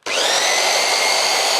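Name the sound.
belt sander running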